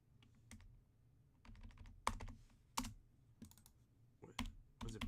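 Computer keys pressed in irregular bursts during a game stream, sharp clicks and clacks with several louder single taps among quieter typing, close and alone without talk.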